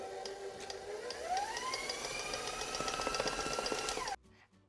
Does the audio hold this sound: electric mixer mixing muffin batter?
yes